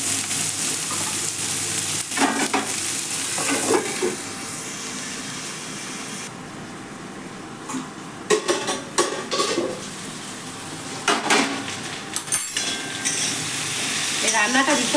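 Grated ginger and chopped green chili fry lightly in a pan, a soft sizzle punctuated by clattering bursts of stirring and spatula scrapes against the metal.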